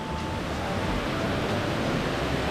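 Waterfall near Luang Prabang in Laos rushing with a steady, dense roar of falling water, loud and unbroken throughout with no voices.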